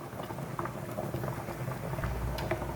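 A homemade soap mixture simmers in a pot with a soft, continuous bubbling and popping patter, fairly quiet and close.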